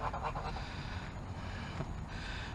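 Geese honking close by at a lakeside fishing spot, a dense, continuous chorus of overlapping calls that stays loud throughout with no talking.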